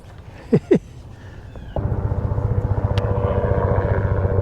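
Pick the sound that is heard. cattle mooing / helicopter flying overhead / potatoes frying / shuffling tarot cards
helicopter flying overhead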